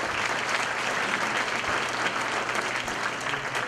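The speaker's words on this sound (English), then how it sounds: "Let's give them a round of applause." An audience at a Citizen of the Year 2013 ceremony in Darien claps steadily, a dense, even wash of applause that holds at a constant level throughout, with no one speaking over it.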